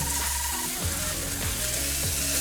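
Oxtails sizzling and frying in a pot, a dense continuous hiss with a few low scraping stirs every half second or so, close and loud with no speech.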